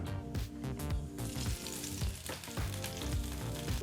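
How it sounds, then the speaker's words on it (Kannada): Hot ghee and fried cashews hit hot khara pongal with a loud, crackling sizzle that surges in bursts as it is stirred in, with no voices. "ಈಗ ಹುರಿದಂಥ ಗೋಡಂಬಿ ಮತ್ತು ತುಪ್ಪನ ಬಿಸಿ ಬಿಸಿಯಾದ ಖಾರ ಪೊಂಗಲ್ಗೆ ಹಾಕ್ಕೊಳ್ಳೋಣ"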